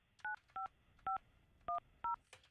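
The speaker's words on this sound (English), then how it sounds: "Let me dial up." Five clear telephone keypad tones are dialed one after another in a radio morning show studio, crisp and evenly spaced over a quiet background.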